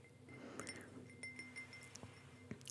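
A mead glass being refilled gives a few soft, delicate clinks, faint and spread out over a low steady background hiss.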